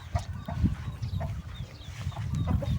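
Chickens cluck busily around a calf's feed, repeated short clucks and low grunts close by, irregular and lively over farmyard noise, no speech.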